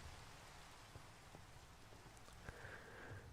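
Mixed snow and rain falling in the Minecraft video game, a soft, steady patter of precipitation that holds an even level throughout, faint and with no other sounds over it.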